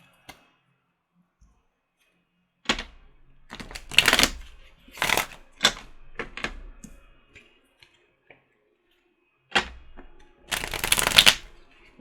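Tarot cards shuffled by hand in quiet bursts, a few crisp riffles and flutters separated by near silence, close and clear with no voice.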